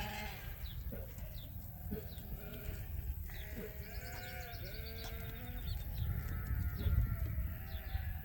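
Sheep in a summer pasture bleat repeatedly, several overlapping calls at moderate distance over a low, steady outdoor rumble, with no talking.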